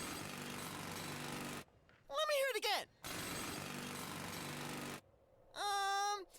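Loud, steady jackhammer noise plays in two long bursts as part of a sound-guessing game, while voices speak in the quiet gaps between them.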